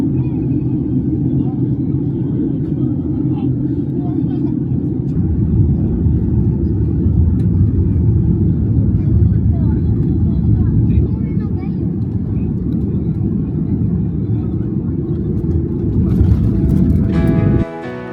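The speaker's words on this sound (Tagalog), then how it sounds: "Touchdown here, Leonardo da Vinci Airport or Fiumicino." A passenger airliner touching down at Rome Fiumicino airport, a loud, steady cabin roar of engines and rumbling wheels on the runway for the whole stretch, easing off near the end as a chime sounds.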